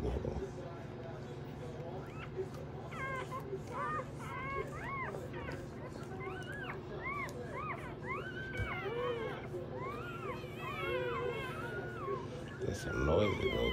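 Several tiny newborn Pyrador puppies whimper and squeak in short, rising high-pitched cries, overlapping continuously over a low steady background hum.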